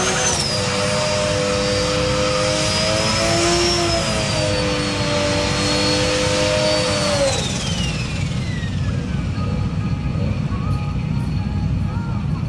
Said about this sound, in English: now do a burnout